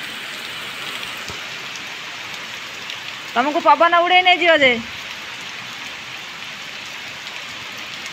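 Heavy rain pours steadily and loudly throughout, a dense continuous wash, with a voice speaking briefly in the middle.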